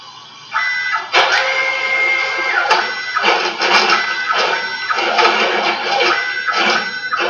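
Stepper motors on a CNC plasma table whir up and cut off in repeated short bursts, a close, buzzy mechanical hum that starts and stops several times in quick succession.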